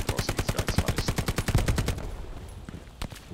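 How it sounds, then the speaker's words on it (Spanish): Rapid automatic gunfire in the World War II shooter Hell Let Loose, a loud burst of about twenty evenly spaced shots over two seconds, then fading echo and a couple of distant cracks. "Esta gente dispara, dispara largo"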